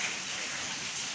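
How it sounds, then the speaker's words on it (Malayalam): Steady heavy rain pours down in an unbroken wash of noise, close and even throughout, with no voices heard. "എന്താ ഒരു മഴ!"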